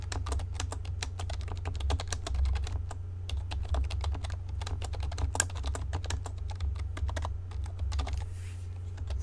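A computer keyboard is typed on steadily as a PHP comment is entered, with dense, continuous clicking keystrokes close up over a low steady hum, and no talking.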